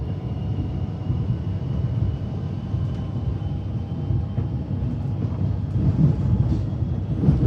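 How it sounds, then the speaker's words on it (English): A steady low rumble of a train on Melbourne's Hurstbridge line passing at a distance, continuous and even, growing slightly louder near the end, with no talking. "Another train."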